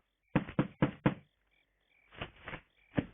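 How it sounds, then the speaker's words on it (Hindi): Knocking on a door in a home: a quick burst of four firm raps, a short pause, then three more spaced knocks, fairly close and clear with no talk over them. "फिर से कोई खटखटा रहा है"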